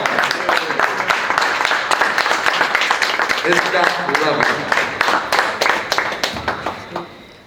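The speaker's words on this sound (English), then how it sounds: "Round of applause." Applause at a plaque ceremony honouring community figures, clapping from a gathered audience heard beneath a speaker's voice as the crowd responds after a prayer.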